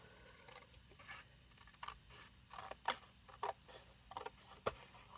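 Scissors snip through cardstock while a 4-by-4-inch piece is trimmed for a top-flap Christmas card, a run of short, close, crisp cuts at an uneven rhythm over a quiet room.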